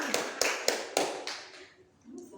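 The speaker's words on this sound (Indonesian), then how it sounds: "Tepuk tangan dong kelompok." A group claps together in a short burst, several sharp ragged claps close by that trail off after about a second and a half into a faint murmur.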